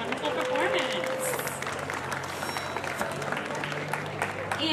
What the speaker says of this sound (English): let's give them another round of applause for the wonderful performance